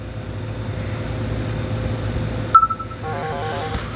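A drone flying in the video game Garten of Banban gives off a steady engine-like hum with a faint whine, joined partway through by a sharp thump and then a short run of beeping game tones.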